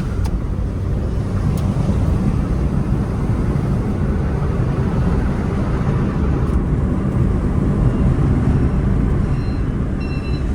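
Steady low rumble of a Toyota Will Vi being driven, a continuous close engine and road drone with wind noise that holds even throughout, with no talk.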